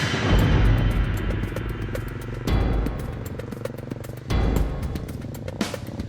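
A motorcycle taxi (ojek) rides through a rural village area in Sukabumi, its engine rumbling and clattering continuously with brief louder surges, heard close and without speech.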